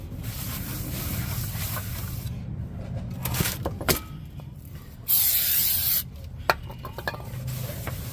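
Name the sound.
oil being sprayed onto car brake parts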